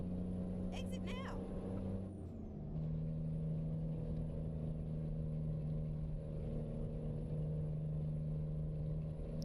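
In a truck driving video game, a truck engine gives off a steady droning exhaust rasp with a brief air-brake hiss early on, while a voice talks over the engine.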